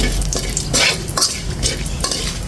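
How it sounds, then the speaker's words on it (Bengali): Whole spices, two crushed cardamom pods and cumin seeds, crackle in hot oil for a fish curry while a utensil stirs them in quick scraping strokes over a steady, close sizzle. "এখন আমি এটা একটু নেড়ে ছেড়ে দিচ্ছি"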